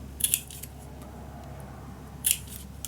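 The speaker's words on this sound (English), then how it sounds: "scissors" Scissors cut paper for a vintage winter mini album, giving two brief crisp snipping clusters, one near the start and one near the end, against a quiet background.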